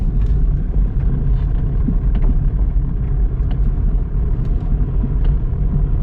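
A vehicle travelling at night along a forest road between Chinnar and Munnar, heard from inside as a loud, continuous, close engine and road rumble with occasional light rattles and no talking.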